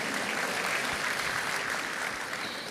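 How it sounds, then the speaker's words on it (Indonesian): Dense church congregation applause during a sermon, a steady wash of many hands clapping at once with no pauses across the whole stretch. "Ayo tepuk tangan lagi"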